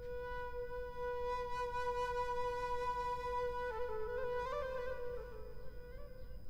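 Sampled music loop with an Indian feel, taken from Tracklib: a sustained, drone-like melodic tone with bending, sliding pitches over a soft noisy bed, steady and fairly quiet with no voices.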